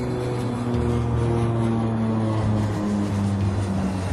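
Propeller airliner droning steadily overhead the Rocky Mountains near Durango, Colorado, on Trans-Colorado Flight 2286; a continuous loud engine hum with steady low tones, no voices.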